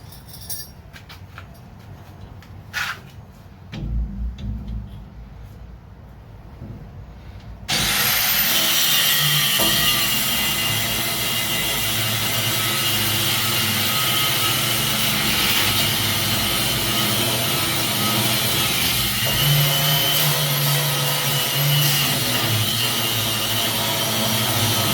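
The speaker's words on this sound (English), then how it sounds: "that's the sound of the Dewalt breaking loose" A DeWalt power tool breaks loose a trailing arm bolt on a 1960-1972 Chevy or GMC truck, starting with a sudden loud, steady mechanical roar that holds for over fifteen seconds after quieter workshop clatter.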